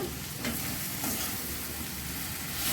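Mushrooms sizzle in a hot pan for a mushroom pepper masala while a spoon stirs them, making a soft, even frying hiss with faint scraping and no speech.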